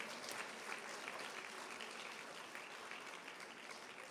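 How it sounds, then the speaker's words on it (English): Dense, sustained audience applause in a hall after a classical Indian dance arangetram performance, steady and full throughout. "So I think they really do deserve another round of applause for that beautiful performance."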